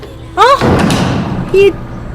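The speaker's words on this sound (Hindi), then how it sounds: "ये दरवाजा अपने आप कैसे बंद हो गया?" A large door of a haunted mansion slams shut on its own, a loud heavy thud with a booming tail, while eerie tonal music swells around it.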